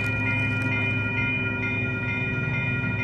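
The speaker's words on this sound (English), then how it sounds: "Amtrak Train 11, Cold Starlight. Your southbound train to Los Angeles, 98th Avenue crossing." Amtrak's Coast Starlight southbound Train 11 passes the 98th Avenue crossing in Oakland, California, a loud, steady rolling rumble of railcars with a sustained tonal hum, close and continuous throughout.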